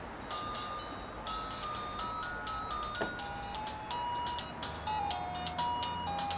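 Phone ringtone of an incoming call in a Korean drama, a melodic electronic tune of steady high tones that plays continuously, fairly loud and close, with no talking over it.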